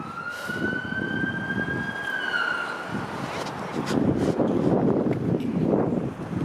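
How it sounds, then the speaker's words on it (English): A wailing ambulance siren rises and holds a steady tone in the distance, over continuous road traffic noise on Coxwell Avenue, Toronto. "As I hear a siren, probably like behind me."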